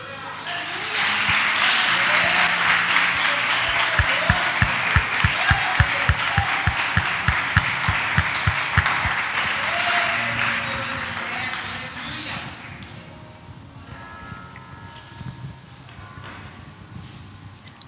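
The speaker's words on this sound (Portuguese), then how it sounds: "Você pode aplaudir mais uma vez, igreja?" A church congregation at MRV Church applauding a couple of newly installed deacons, with dense rhythmic clapping swelling loud, then easing off as the applause fades, a voice talking over it near the end.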